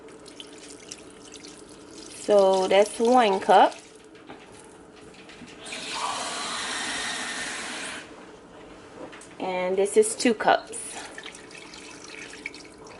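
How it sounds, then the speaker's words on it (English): Water poured into a Ninja Foodi cooker for a seafood boil, a soft splashing stream lasting a couple of seconds, set between bursts of nearby talking. "I'm adding 2 cups of water."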